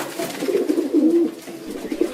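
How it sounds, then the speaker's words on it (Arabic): A pigeon coos at a farm, a low soft throaty purring call rolling on for about two seconds, fairly close and alone with no talk. "حمامة."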